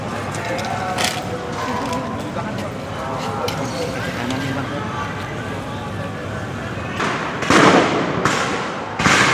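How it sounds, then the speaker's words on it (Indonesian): Tear gas launcher shots at a night street protest outside the Mako Brimob gate in Kwitang, Central Jakarta: sharp thumps and pops over a constant crowd roar, with a louder cluster of bangs near the end and people talking throughout. "terlihat lagi ada tembakan gas air mata ke depan sana"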